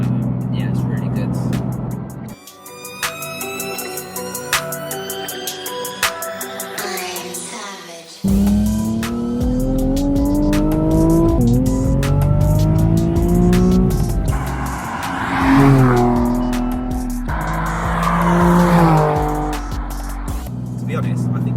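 A Nissan 370Z with its muffler deleted revs hard, the loud raw exhaust climbing and falling through several sharp pulls with a rasping, throaty edge close by.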